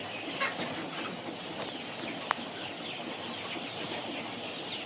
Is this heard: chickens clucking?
yes